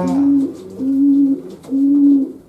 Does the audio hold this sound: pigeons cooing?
yes